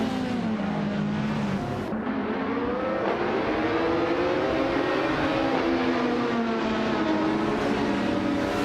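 LMP2 race cars, including a 2014 JSP2 Nissan, launching at the start of a video game race at Misano, with loud, steady engine drone and rising revs as the pack accelerates away together.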